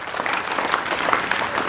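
A school audience gives hearty applause to two science teachers at an award address, a brief burst of dense, steady clapping from a crowd.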